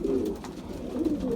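Pigeons cooing close by in a loft where the birds are fed and watered, a low, soft, continuous murmur of overlapping coos with no talking.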